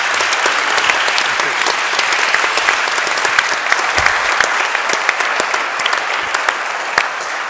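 Steady, dense applause from a lecture audience for the business panelists, sustained at full volume from start to finish with sharp individual claps standing out, no voices over it.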